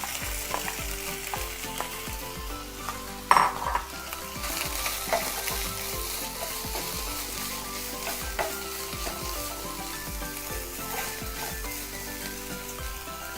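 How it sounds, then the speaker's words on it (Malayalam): Chicken pieces frying in hot coconut oil in a home kitchen, with steady close sizzling, occasional stirring clatter and one sharp knock partway through, no voices. "എണ്ണ ചൂടായി കഴിയുമ്പോൾ നമുക്ക് ചിക്കൻ ഇട്ടൊന്ന് ഫ്രൈ ചെയ്തെടുക്കണം."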